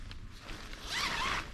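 A zipper on a Jerven Fjellduken or Särmä TST thermal blanket shelter is pulled in one brief, close, rasping run near the end, with no talk over it.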